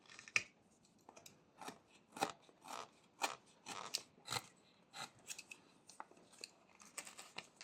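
A knife blade presses straight into soft wood, making stop cuts around the head of a small whittled sitting bear. A string of short, crisp, close-up crunches and scrapes comes at an uneven pace, with no talking.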